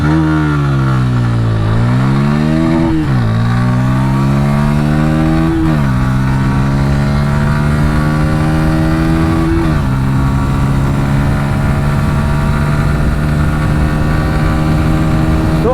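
A Pulsar P150 motorcycle revs hard from standstill and climbs through several gears, each shift dropping the pitch before it rises again, loud and close throughout.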